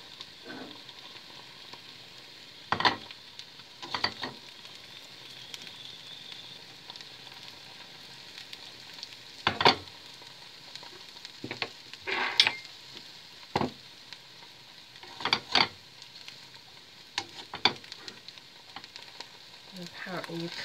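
Oil sizzling in a frying pan at home, a steady hiss with scattered sharper crackles and spits that rise and fall across the stretch, fairly close but moderate in level.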